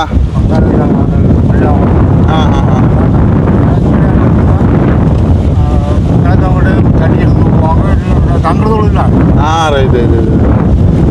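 Strong wind buffets a small fishing boat out at sea off Mandaitivu during crab fishing, a loud, steady roar of gusts against the microphone throughout, with voices talking over it.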